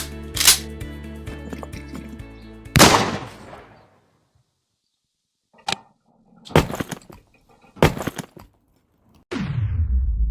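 Thor's hammer replica smashing a bowling ball against a board, a series of sharp, loud cracking impacts with brief ringing decays, separated by near-silent gaps and a final heavy hit.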